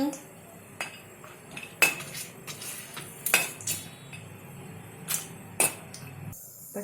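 Almonds tipped into a pan and roasted for khajoor dry fruit pak, with sharp clinks and knocks of a spoon against the metal pan at irregular intervals over a quiet background, close and fairly crisp.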